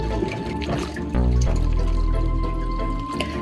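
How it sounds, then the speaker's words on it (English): Tap water runs steadily into a kitchen sink while hands are washed after peeling off cooking gloves during wonton appetizer prep; a loud, continuous rush begins about a third of the way in and holds to the end. "So now I just gotta take the gloves off and still wash your hands."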